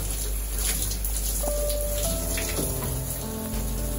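Tap water runs steadily over hair to rinse out conditioner, a close, continuous splashing spray with a few tonal drips and no voices.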